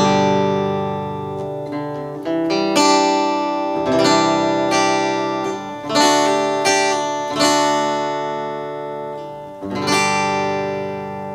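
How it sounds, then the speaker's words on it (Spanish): Multiac Steel guitar heard through its acoustic pickup, strummed chords and single-note runs ringing out with bright attacks and sustained decay, close and fairly loud with no talking. "ahorita estamos usando el pickup acústico que se queda acá y más o menos suena así"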